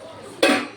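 A lid lifted off a pot of simmering Chettinad chicken gravy gives one sudden, fairly loud metallic clank that rings briefly and fades, heard up close over a quiet kitchen background with no talking.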